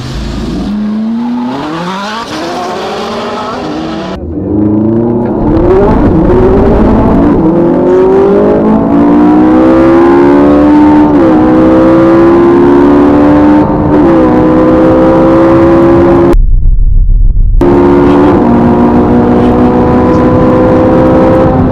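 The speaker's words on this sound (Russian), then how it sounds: "Феррари стала в левую полосу. Здесь лучший зацеп. Сейчас попробует зацепиться и уехать от Ауди." A Ferrari 458 launches off the line in a drag race, its engine screaming loud and close through rising gear pulls with brief gaps at the shifts, alone without talk.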